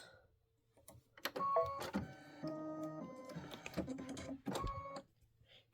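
Aveneer embroidery machine stitching an outline on a hooped block, a soft rhythmic mechanical whir with stepping tones and clicks, fairly quiet and steady for a few seconds before stopping.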